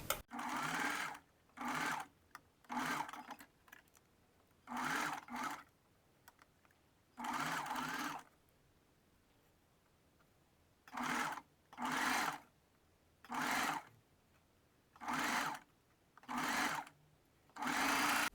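A sewing machine stitches a bra cup onto the band in repeated short bursts of rapid whirring, about a dozen runs of one to two seconds each separated by quiet pauses, close and clear.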